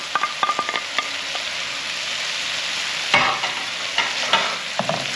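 Bacon and sausage sizzling in a pan while being stirred, with steady frying hiss under clinks and scrapes of a utensil that come in clustered bursts, close by with no talking.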